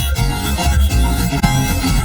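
Serum 2 spectral oscillator with scan turned up, playing a fast, jumbled, glitchy synth texture that repeats dense chopped fragments loudly and continuously.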